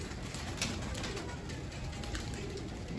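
Soft, low cooing of pigeons on a rooftop in bad, overcast weather, over a steady, noisy outdoor background, the calls blending into a continuous murmur.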